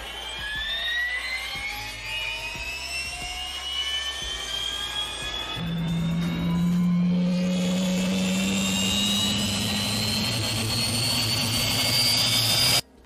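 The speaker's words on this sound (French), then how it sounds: "c'est le son que fait le moteur électrique" A jet engine's electric starter motor spools it up, its rising whine sweeping higher over a steady hum, loud and continuous until it cuts off abruptly.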